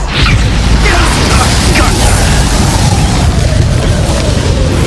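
In a Harry Potter video game, an Expulso spell sets off a loud, sustained explosive roar that rumbles densely without letup, close and overpowering.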